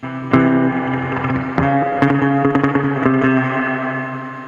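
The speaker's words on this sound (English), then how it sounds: "reverb on them, the surfing." An electric guitar strums chords through a heavy, wet reverb, each hit ringing out and decaying into a lush, splashy tail. No one speaks.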